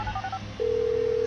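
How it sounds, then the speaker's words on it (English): A phone in Grand Theft Auto V plays a quick run of short dialing beeps, then a steady, sustained call tone. The sound is clear, with no voices. "So bring up the phone. I'm making the call."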